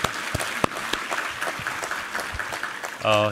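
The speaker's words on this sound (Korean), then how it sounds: "우리 하나님께 감사와 영광의 박수 올려드리겠습니다." A church congregation claps together during a Sunday worship service, steady dense applause filling the sanctuary, ending as a brief musical tone comes in.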